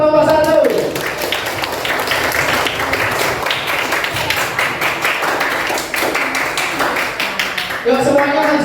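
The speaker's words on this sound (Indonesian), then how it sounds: "Tepuk tangan untuk kelompok 1." Classroom clapping from a group of students, a rapid, uneven patter of many hands lasting several seconds, with a voice speaking briefly at the start and end.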